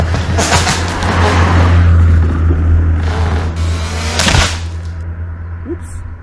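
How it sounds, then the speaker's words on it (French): A car engine rumbles steadily nearby and swells as it passes, with a brief louder whoosh near the end before fading. "Attention, une voiture qui arrive."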